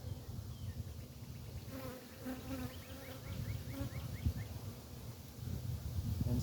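A honeybee colony from a swarm trap being moved to a new hive fills the air with a dense, continuous buzzing of many bees close by, with individual bees droning past.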